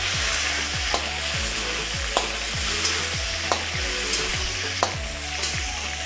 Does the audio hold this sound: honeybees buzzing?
no